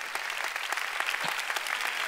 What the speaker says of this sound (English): Oh, come on, you want to clap?